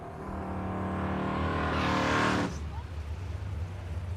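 Drag race cars, including an old-school Mustang, launching at Thunder Valley strip in Noble, Oklahoma, engines building to a loud roar that climbs and then cuts off abruptly, leaving distant rumble and crowd noise.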